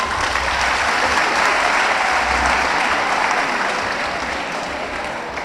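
Steady, dense applause from an audience at a talk on democracy and the rule of law, sustained for several seconds and easing slightly toward the end.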